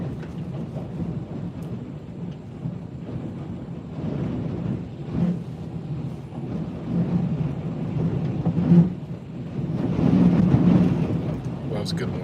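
Strong wind gusting through the Columbia River Gorge during a severe winter storm, a steady broadband roar that swells into louder gusts near the end, with a voice talking over it.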